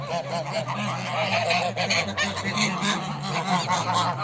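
A flock of geese honks continuously and loudly, overlapping calls forming a dense, noisy chorus with no talking.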